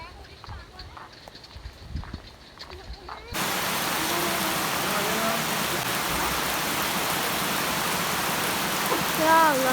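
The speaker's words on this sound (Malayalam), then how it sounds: "വലിയ മഴ വരുന്നുണ്ട്." Heavy rain pours down suddenly and loudly, a dense, steady roar of drops hitting surfaces that starts abruptly after a few seconds of quieter outdoor sounds and continues unbroken.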